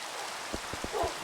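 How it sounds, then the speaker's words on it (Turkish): Steady hiss of Minecraft rain falling in a game world, a continuous soft wash with a few faint low patters and thumps, no talking. "Yağmur yağıyor."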